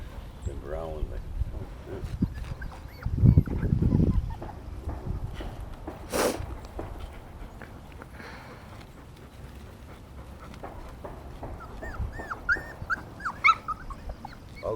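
Puppies whimper, yip and growl in short bursts, with panting and scuffling close by, while someone talks over them.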